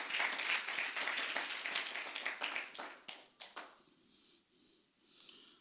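A church congregation applauds with a burst of dense clapping that thins into scattered claps and fades to quiet within a few seconds.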